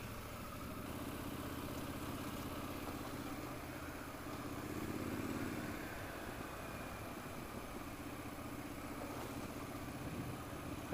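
A Triumph Scrambler 1200 motorcycle rides along narrow town roads, its engine a steady low hum with a slight swell midway, heard close with constant wind rush.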